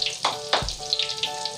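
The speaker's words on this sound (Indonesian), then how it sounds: "kita coba goreng 4 dulu" Beef lung pieces frying in oil in a small wok, a steady close crackling sizzle with a few sharper pops and spatters.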